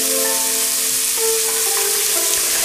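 Beef sears in a hot pot for a barley soup, giving a loud, steady, close sizzle and crackle that runs without a break and with no one talking.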